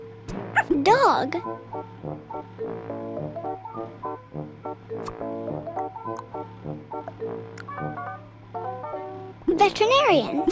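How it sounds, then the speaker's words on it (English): A cartoon dog yips and barks at the start and end of a stretch of cheerful game music in the Sago Mini School pet-care app for kids, the calls loud and close. "Dog."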